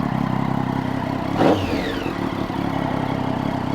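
A Triumph Daytona 675 motorcycle engine, after valve work, runs at a steady idle nearby with one brief rev that rises and quickly settles back.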